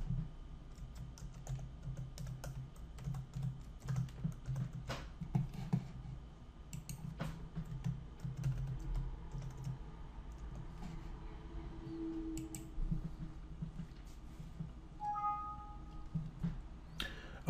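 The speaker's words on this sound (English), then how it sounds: "I'll log in by entering my username and password." Quiet typing of a username and password on a laptop keyboard, with irregular bursts of soft key clicks and short pauses over faint room hum.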